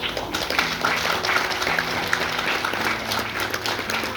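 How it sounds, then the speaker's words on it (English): An audience at a tenth-anniversary barbecue gathering claps steadily in sustained applause, a dense, even wash of many hands continuing throughout with no speech over it. "Let's just give her another round of applause."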